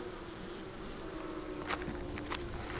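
Honey bees hum in a steady, close drone at an open hive while oxalic acid sponges are placed, with a few sharp clicks and rustles of hive handling over the buzz.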